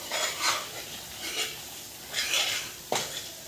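Onions being stirred and sautéed in a pan for a mushroom gravy, giving a soft steady sizzle with several scraping strokes of a spoon against the pan and a sharper clack near the end, with no voices.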